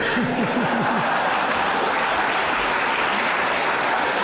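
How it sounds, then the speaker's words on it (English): Audience applause at an award speech, a full room clapping loudly and continuously, with a brief voice or laugh at the start over the dense clapping. "yeah, go ahead, applaud"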